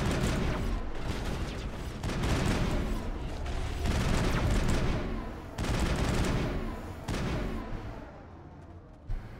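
Gunfire in the Mass Effect video game, repeated bursts of rapid automatic shots in loud clusters separated by short pauses, fading near the end.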